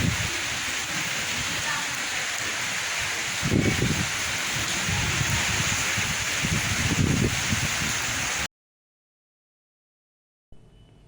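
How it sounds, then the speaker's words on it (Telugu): Heavy rain pours steadily during a storm with gusty wind, thunder and lightning in Visakhapatnam, with louder surging gusts around the middle, before cutting to near silence at the end. "ఈదురుగాలులతో పాటు మెరుపులు, ఉరుములతో వర్షం కురిసింది."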